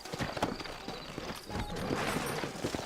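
Horse hooves clip-clop at a steady walking rhythm in the Red Dead Redemption video game, with a brief whinny and soft background ambience, moderately close and not loud.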